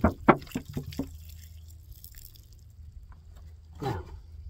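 Water poured from a gallon jug into a bucket packed with pulled weeds to make fertilizer, a few short splashing pours at the start, then a quieter spell and one last brief slosh.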